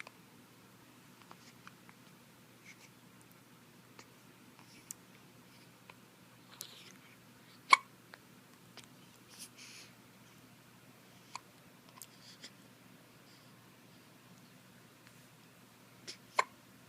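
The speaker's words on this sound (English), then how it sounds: "Those darn hiccups." A newborn baby, eight days old, hiccups in a quiet room, with sharp isolated little jolts scattered irregularly several seconds apart, faint overall with a couple of louder ones, over soft background noise and no talking.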